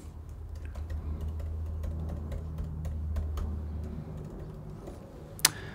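Keystrokes on a computer keyboard as an email address is typed, a quick irregular run of soft clicks over a steady low hum, ending with one sharper, louder tap.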